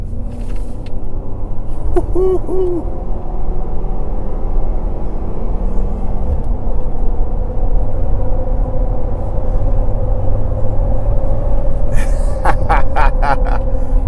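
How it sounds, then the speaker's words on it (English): A Ford 3.5L EcoBoost turbocharged engine roars steadily and loudly throughout, with a faint rising turbo whistle over the drone as it accelerates. "I actually heard some turbo whistle going on right there."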